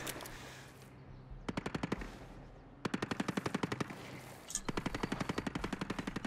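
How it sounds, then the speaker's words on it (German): Bursts of rapid machine-gun fire in a war video game, several sharp rattling volleys separated by brief pauses, loud against a quieter ambient background. "Da schießen immer noch welche."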